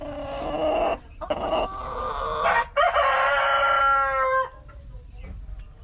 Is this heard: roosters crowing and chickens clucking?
yes